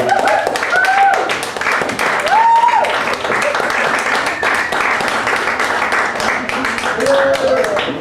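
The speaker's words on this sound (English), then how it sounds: "Give another round of applause for Sal, Kurtis, and our MC, Sarah." Sustained audience applause fills the room at a comedy show after a comedian's set, dense and loud throughout, with scattered cheers and whoops rising above the clapping.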